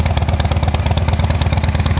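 A 2009 Harley-Davidson Dyna Low Rider with a 96 cubic inch rubber-mounted V-twin idles nearby, its low, loping pulse steady and loud throughout with a light mechanical clatter on top.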